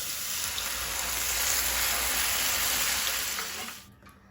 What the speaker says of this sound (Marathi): आता हांव तातूंत घालता उदक